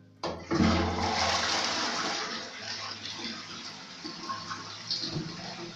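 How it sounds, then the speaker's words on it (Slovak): A toilet flushes in a home bathroom in the early morning, a sudden loud rush of water that swells and then settles into a long, steady gurgling refill. "Spláchneme, diváci."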